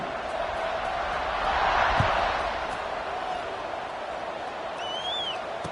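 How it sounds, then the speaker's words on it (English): A stadium crowd at a football game buzzes in a steady, far-off roar that swells briefly, with a whistle near the end and voices mixed into the noise. "this crowd is buzzing after that last score"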